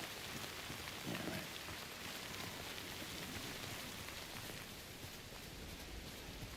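Steady rain in the video game Death Stranding, a soft, even hiss of falling drops that runs unbroken and faint throughout, with no voices.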